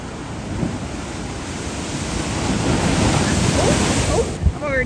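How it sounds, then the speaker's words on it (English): Ocean waves surge and crash onto a Mauritius shore in a steady, loud wash of surf, building toward the end with a sharper break, while wind buffets the microphone throughout. "these waves are all the way crashing up"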